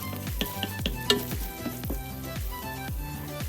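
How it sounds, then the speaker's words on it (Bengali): Ginger, green chili and cumin spice mixture fries in a pan over a low flame, a steady close sizzle broken by rhythmic stirring strokes of a spoon against the pan about every half second. "ফ্লেমটাকে লোতে রেখে দু তিন মিনিট সময় ধরে এই মশলার মিশ্রণটাকে একটু ভেজে নেব"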